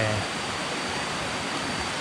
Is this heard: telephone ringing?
no